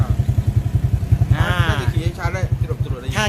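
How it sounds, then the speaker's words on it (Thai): A motorcycle fitted with a loud Ora Ratchaburi exhaust pipe idles close by with a steady, deep, throbbing pulse, while someone talks over it partway through. "เป็น 2 เสียงนะครับถือว่าโอเคนะครับสำหรับท่อผ่าดังโอราชบุรีนะครับ"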